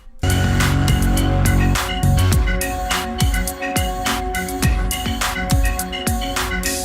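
Synthetic percussive hollow instrument in a Digimon Story Cyber Sleuth soundtrack piece, repeated knocking hits with dropping pitch over sustained tones and bright rhythmic ticks, steady and loud throughout with no talking.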